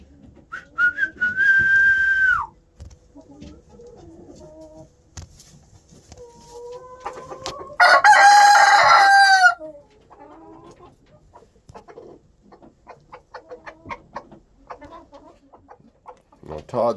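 Backyard chickens cluck and a rooster crows in response to a person's whistled call; two loud whistles sound, one near the start and one midway, with scattered clucks, crowing and occasional talk between them.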